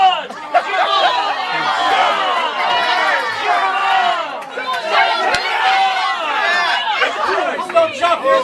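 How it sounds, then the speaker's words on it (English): A crowd at a pie eating contest shouts and cheers the eaters on. Many excited voices overlap in a loud, continuous babble that stays steady throughout. "Come on, cheer them on."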